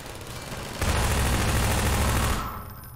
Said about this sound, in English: You shoot my turrets, I shoot you.